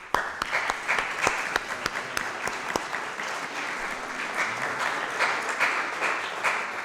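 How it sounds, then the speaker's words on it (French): A congregation claps for the young people at a Sunday church service in Malagnou, with sharp individual claps standing out early, then a sustained, even wash of applause filling the room for several seconds. "on peut vous applaudir."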